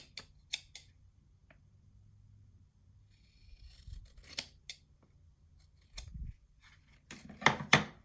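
Scissors snipping through thick paper while trimming a handmade mini album cover, several separate short cuts spread across the span, close and crisp with quiet gaps between them.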